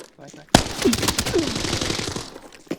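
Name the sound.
gunfire in video game Arena Breakout Infinite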